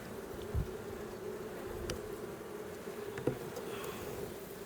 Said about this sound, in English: I just hope that those ain't robber bees trying to get down in there